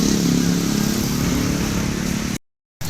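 A motorcycle with a punctured tyre idles and rumbles nearby, a steady, loud low-pitched engine drone that breaks off abruptly into brief silence before resuming.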